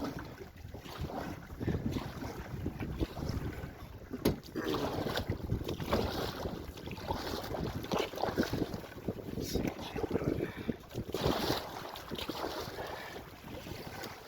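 A canoe being poled upstream through water on the Chiniguchi Waterway, with continuous rushing water, splashes and gusts of wind noise, and a few brief knocks of the pole.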